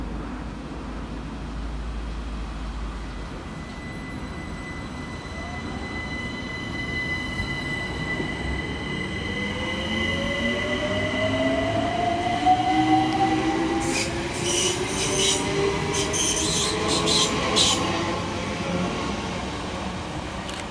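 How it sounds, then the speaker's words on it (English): A London Overground train, class 378 unit 378230, runs through Imperial Wharf station. A low rumble builds into a pass with rising and falling wheel squeals and a brief high screech near the end, heard alone at moderate distance. "And quickly following in his heels is 378230, working the 1513 London Overground service from Clapham Junction through to Stratford."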